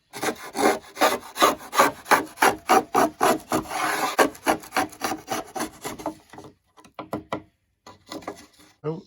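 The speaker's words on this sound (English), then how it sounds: "So I'm going to just scrape smaller amounts at a time." Steady back-and-forth scraping with a hand scraper across the carved wooden top of an archtop guitar, about sixteen even rasping strokes, close and fairly loud, then a few softer, sparser scrapes after a short pause.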